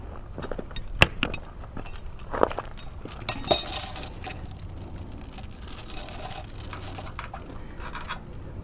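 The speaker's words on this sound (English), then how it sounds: "just put the bolt down through the hole" A metal bolt is dropped down through a mounting hole during trailer chain repair work, giving a few sharp metallic clinks and rattles over a quiet background.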